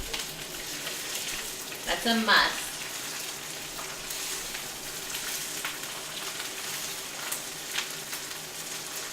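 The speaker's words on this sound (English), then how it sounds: "Yeah, and you want that sizzle sound." Garlic fried rice sizzles steadily in a hot pan, a constant bright hiss of frying, while a voice speaks briefly over it.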